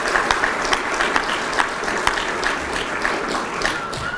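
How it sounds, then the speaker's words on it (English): Sustained applause from an audience at a leadership awards ceremony honoring student award winners, dense and steady clapping with a few sharper individual claps standing out, continuing throughout without talk. "Let's give them one more round of applause."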